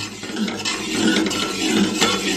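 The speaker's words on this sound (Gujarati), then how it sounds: "આપણને કન્ટિન્યુ સ્ટર કરતા રહેવાનું છે" A utensil stirring an ice-cream mixture of milk, powdered sugar, milk powder and cornflour in a pot on a gas stove, steady scraping and clinking against the metal at close range.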